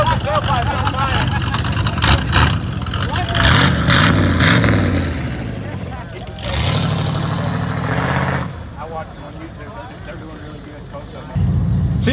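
A car engine revs hard at a car show during a one-wheel peel, with loud bursts of revving that rise and fall and a throaty exhaust. People talk over it nearby.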